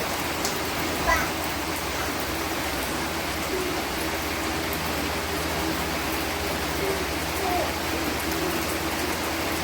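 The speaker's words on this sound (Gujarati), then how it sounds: "અચાનક વરસાદ આવ્યો" Continuous heavy rain hiss over farm fields filling the whole clip, dense and steady, with a faint low hum beneath.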